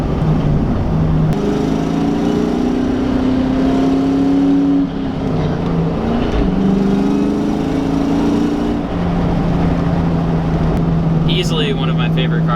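A 500whp Terminator Cobra's engine drones and climbs through the revs under acceleration, heard from inside with a steady, loud rumble that rises and shifts pitch across gear changes.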